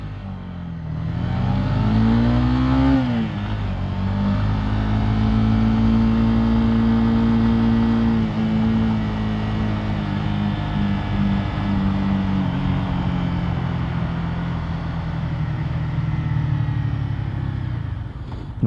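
Motorcycle named Bella riding along, its engine revving up through rising gear pitches and then holding a steady drone with wind noise, loud and close throughout.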